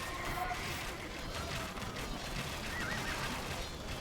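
Horses whinnying and neighing in the Age of Empires 2 Definitive Edition Alexander the Great campaign, repeated calls over a dense, steady bed of battle and hoof noise, with a voice speaking over them.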